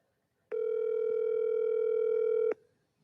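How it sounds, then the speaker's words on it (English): A single steady telephone ringback tone of about two seconds, clean and close, starting and stopping sharply, with quiet before and after. "It's ringing."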